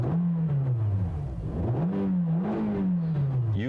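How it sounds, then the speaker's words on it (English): A 2016 Scion iM's 1.8-litre engine revving in several rising and falling sweeps, buzzy and close, each rev climbing then dropping back toward idle. "Let's go for some revving."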